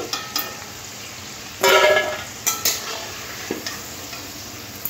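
Potato sticks for homemade French fries frying in hot oil, a soft steady sizzle with a few louder stirring scrapes and clinks, no talk.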